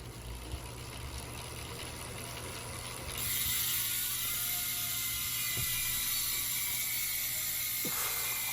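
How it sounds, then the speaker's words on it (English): A brand-new 2021 Zipp 404 Firecrest bicycle wheel with a SRAM XDR 12-speed freehub spins freely, its ratchet pawls giving a loud, rapid, steady clicking that rises in intensity partway through and continues close up without any talk. "Let's hear the sound test right here. The Zipp 404s of 2021s, brand new, the Firecrest."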